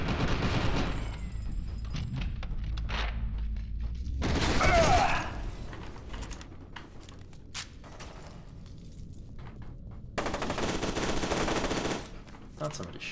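Rapid automatic gunfire from the video game FEAR 2 crackles in loud bursts, with a long barrage at the start, more volleys midway and another burst near the end.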